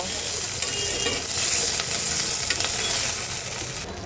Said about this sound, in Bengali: এইবার সব কিছু একসাথে সুন্দর করে ভাজা ভাজা করে নেব